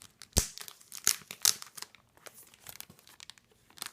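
Crinkly plastic comic book bag and sticky tape being handled and pulled, with sharp crackles and tearing bursts in an irregular series, close and fairly quiet.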